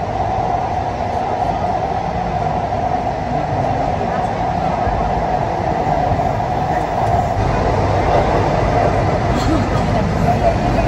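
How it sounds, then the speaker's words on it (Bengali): A Kolkata metro train running through the tunnel beneath the Ganga river, Howrah to Esplanade line, produces a loud, steady rumbling roar with rail noise, close and continuous, with voices faintly present underneath. "এবারে কিন্তু গঙ্গার নিচে দিয়ে মেট্রো যাবে"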